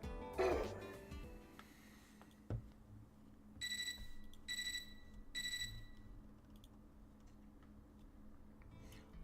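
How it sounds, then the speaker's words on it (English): An alarm clock rings in three short, evenly spaced bursts of bright electronic tones, fairly quiet, after a few soft rustles and a thump. "I woke up to a ringing sound like an alarm clock."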